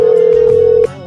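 A single steady telephone ringback tone holds for just under a second, loud and alone, before cutting off abruptly into a quieter line hiss.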